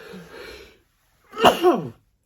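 A single close, forceful sneeze bursting out after a short silence, preceded by a muffled voice.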